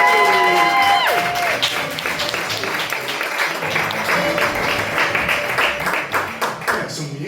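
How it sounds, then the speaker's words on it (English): Pub audience at the Booksellers Arms breaking into applause, dense clapping with cheers and whoops, loud and close, steady for several seconds before thinning slightly at the end. "round of applause for Mr."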